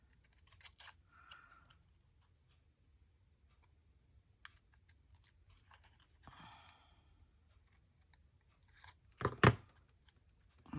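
Scissors snip small pieces of paper for altered photo slides, a few faint, sparse cuts in a quiet room, ending with one louder, sharper snip near the end.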